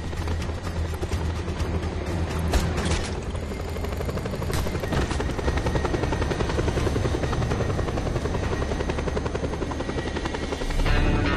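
Helicopter in the Just Cause 2 video game, a steady loud rotor and engine drone that holds without a break, dense and close.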